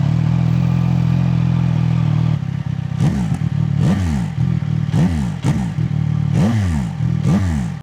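Stock-exhaust CFMOTO 675 SR-R motorcycle idling steadily, then blipped in a series of sharp rising-and-falling revs, close and loud, with no talk.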